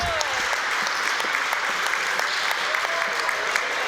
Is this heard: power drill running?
no